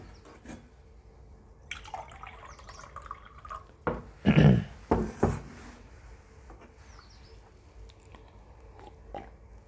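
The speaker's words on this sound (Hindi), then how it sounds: "थोड़ा सा पानी पी लेता हूं मैं" Water is gulped several times in quick succession, close and fairly loud, with soft clicks and a swallow in a quiet room between a teacher's lecture.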